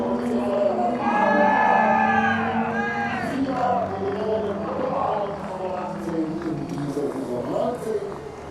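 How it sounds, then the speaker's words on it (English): Crowd cheering at the Hockenheimring during a DTM touring car race, a broad roar of whoops and shouts from spectators, fairly distant, heard beneath a commentator's voice. "And there is the cheer."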